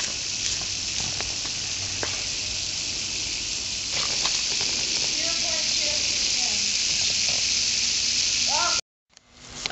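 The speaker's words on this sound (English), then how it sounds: "it's starting to bubble more vigorously" A Fenton's reagent reaction bubbles vigorously with a steady, close fizzing hiss, dotted with small popping bursts that build toward the end before cutting off abruptly.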